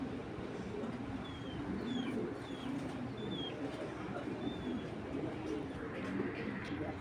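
A racing pigeon coos softly in a quiet setting, with low, muffled calls repeating under steady background noise and a few thin bird chirps higher up.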